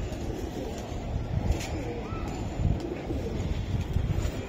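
A racing pigeon coos softly a few times among light background noise, with faint chirps around it; no clear talk over it.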